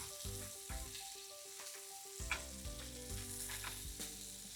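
Freshly flipped scallops sear in a hot buttery pan, giving a steady close sizzle with light crackles throughout and a faint clink partway.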